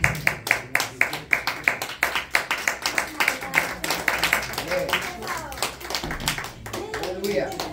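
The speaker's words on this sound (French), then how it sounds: "Acclamons cette parole que Dieu nous a donnée." A church congregation claps in praise, a steady rhythmic beat of many hands that loosens into scattered applause, with voices and a child's chatter mixed in.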